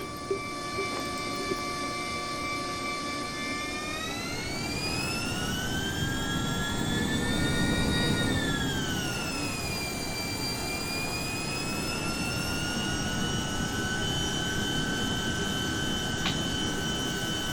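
Honda Jet engines taxiing in Microsoft Flight Simulator at the Cayman Islands, a steady whining jet drone with a rising and falling pitch, close and continuous under a low rumble.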